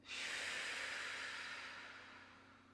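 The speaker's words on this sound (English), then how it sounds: "Take a deep breath in and a deep breath out." One long, deep breath drawn in and let out during a restorative reclined yoga practice, heard close as a soft, airy hiss that slowly fades over a couple of seconds.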